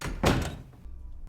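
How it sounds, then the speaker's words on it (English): A door is shut and locked with a solid, dull thunk followed by fainter mechanical knocks and clicks, close and with no voices. "Inside, he locks the door."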